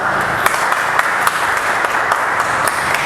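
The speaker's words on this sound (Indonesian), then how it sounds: "kita kasih tepuk tangan dulu" Applause from an audience at a legal forum on land-law enforcement and harmonisation, a steady dense wash of clapping with a few sharper claps standing out, loud and continuous throughout.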